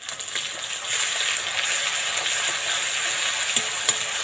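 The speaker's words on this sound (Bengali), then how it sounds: "মশলাটা একটু ভেজে নিয়েছি" Spice paste of ground cumin, ginger-garlic paste and dry red chili paste fries in a pan for a Bengali katla fish curry, giving a steady, close hiss and sizzle with a few soft stirring scrapes.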